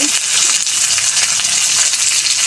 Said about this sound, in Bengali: এটা আমি ভালো করে ভাজবো।